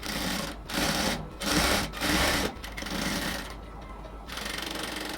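A sewing machine runs steadily, stitching lace onto a band collar, loud and close, with the motor rising and falling in several bursts separated by short stops.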